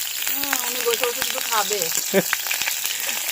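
Cauliflower pieces frying in hot oil in a pan, a steady close crackle and sizzle with spattering pops throughout, while someone talks over it.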